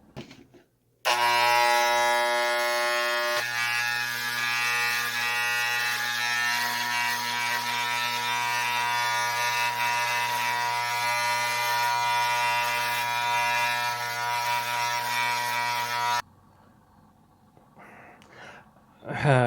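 An electric razor shaving a head runs as a loud, steady, close buzz for about fifteen seconds, then cuts off and leaves quiet room noise.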